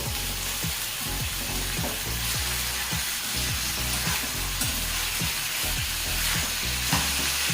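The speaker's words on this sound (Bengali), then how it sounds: "গ্যাসের ফ্লেম মিডিয়াম করে এঁচোড়গুলো ভেজে নিতে হবে" Young jackfruit pieces fry in hot oil over a medium gas flame, a continuous loud sizzle broken by regular scraping stirs roughly every half second.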